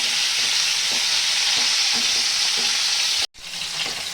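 Pointed gourd (potol) pieces frying in hot oil, a steady loud sizzle with soft scraping as they are turned, cutting out abruptly near the end before the sizzle resumes more quietly.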